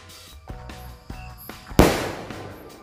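One loud firecracker ball explosion cracks out after some light background ticking, followed by a brief fading rumble, during Eid al-Adha celebrations.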